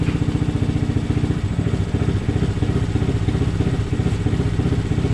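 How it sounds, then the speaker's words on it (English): Loud, close Honda Grom motorcycle engine running with an ECU ramble setting, its choppy, lumpy idle pulsing in a steady uneven rhythm like a big-cam bike, with no talk over it. "Alright, so here's, you can hear the bike. This is just playing with the ramble."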